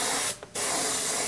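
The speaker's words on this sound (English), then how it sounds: "It's not a very precise thing, spraying the main color." An airbrush sprays the base colour of paint onto an RC model in a close, steady hiss that stops briefly for a moment, then resumes and continues to the end.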